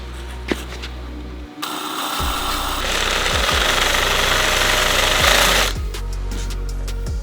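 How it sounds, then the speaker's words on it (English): A power drill whirs loudly and steadily for several seconds, biting into material with a grinding hum before winding down. "So we're gonna drill it out."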